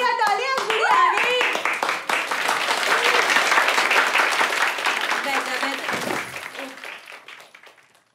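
A group of people claps to welcome a girl arriving at a family gathering, a steady burst of applause mixed with voices that gradually fades out.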